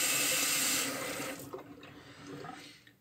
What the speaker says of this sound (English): turn the sink on warm